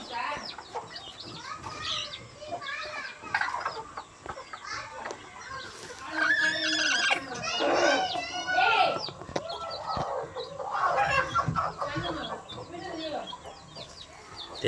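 Chickens in a coop cluck and squawk in repeated bursts, fairly close and busy, with a person talking intermittently among them.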